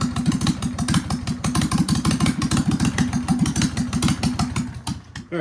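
An Argo amphibious vehicle engine runs loud and close with a rough, fast chugging idle and a steady rhythmic clatter that holds throughout, with no talk.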